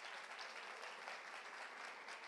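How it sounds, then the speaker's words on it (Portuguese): Audience applause for a sign language (Libras) interpreter at an education congress, steady dense clapping throughout, fairly faint and distant, with no talk. "queria uma salva de palmas para o William, que vai acompanhar a gente"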